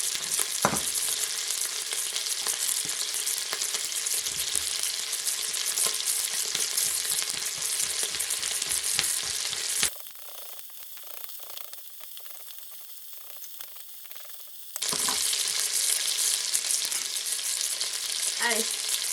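Pork sizzling in a pan, a loud continuous crackle up close that drops to a quieter hiss for several seconds and then returns to full strength, with no talking.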